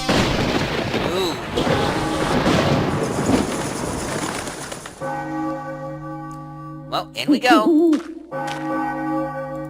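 A church bell tolls in the video game Enigmatis: The Ghosts of Maple Creek, ringing out with a long humming resonance under rumbling ambience, while someone speaks briefly over it.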